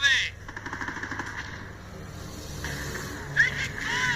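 Heavy gunfire in the Company of Heroes video game, Battle of Crete: rapid machine-gun bursts and scattered shots fill the scene, with whooshing effects and a battlefield din underneath, loud and continuous throughout.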